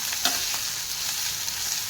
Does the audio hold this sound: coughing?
no